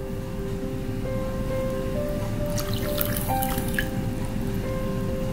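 Water is poured into sugar in a pan to make syrup for boondi laddu, giving a soft, steady trickle and dribble close by, with a few brief splashy drips and no talking.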